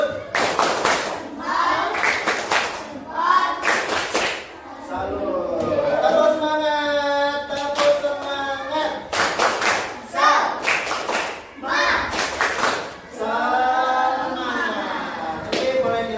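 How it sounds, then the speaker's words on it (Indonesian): A standing classroom group of teachers performs rhythmic chant-clapping routines, bursts of loud unison claps alternating with sung or chanted voices, repeating in patterned rounds throughout. "kita tepuk semangat dan tepuk salut untuk kita semua"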